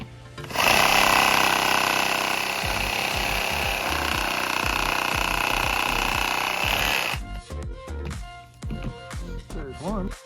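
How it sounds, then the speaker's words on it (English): Bosch Sawzall reciprocating saw cuts through tree roots growing into a patio, a loud buzzing rasp running steadily for several seconds before stopping, followed by scattered knocks and handling noises. "I'm going to try to do a little sawzall action with my Bosch sawzall"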